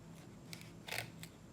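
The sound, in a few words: scissors cutting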